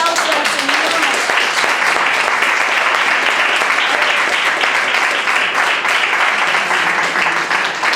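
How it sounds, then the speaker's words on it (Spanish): Loud, continuous congregation applause in a church during a Pentecost service, dense clapping close by with some voices mixed into the crowd sound throughout. "Le damos un aplauso al Señor."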